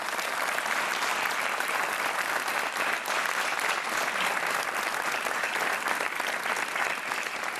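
Studio audience applause on a Portuguese TV game show, loud, dense and continuous clapping from a large crowd that carries at an even level for several seconds with no talk over it.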